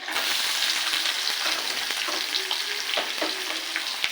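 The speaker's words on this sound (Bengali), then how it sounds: "একটু ভেজে নেব। এবার দেবো পেঁয়াজ কুচি" Chopped onion fries in a pan with ginger, giving a close, even sizzle with occasional faint stirring taps throughout.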